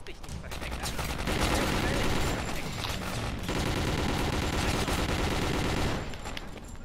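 Rapid bursts of gunfire from the World War II shooter Call of Duty WW2, dense overlapping shots at close range running loud and continuous for several seconds.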